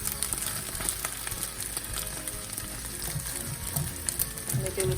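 An omelet sizzles steadily in a frying pan as it is folded into thirds and flipped onto itself, with a continuous hiss, occasional soft scraping and faint clinks near the end.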